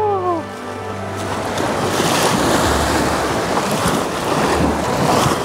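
Ocean waves break and wash around a horse swimming in the sea, a loud continuous roar of surf with wind buffeting the microphone close by.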